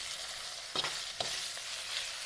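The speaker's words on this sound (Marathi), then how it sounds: "छानपैकी तळायला लागली हिरव्या मिरच्या हिरव्या मिरच्या तळल्या" Green chillies frying in hot oil in a home kitchen, giving a steady close sizzle throughout with a couple of brief stirring clatters, no one talking.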